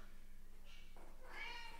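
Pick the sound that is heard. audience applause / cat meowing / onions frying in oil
cat meowing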